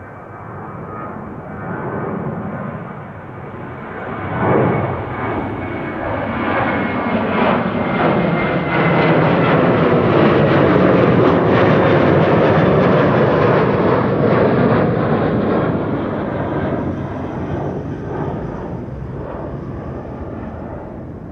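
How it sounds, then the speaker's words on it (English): A KLM Embraer 190 jet airliner rolls for takeoff at Amsterdam Schiphol, its engine roar swelling from a moderate rumble to a loud, broad, sustained thunder before easing slightly as it moves away. "KLM Flight 955 to Newcastle has begun rolling."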